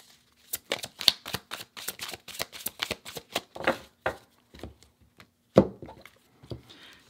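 A deck of tarot cards is shuffled by hand for a reading: a quick run of crisp riffling and tapping card sounds, close and fairly soft, with a few brief pauses and a firmer knock of the deck near the end.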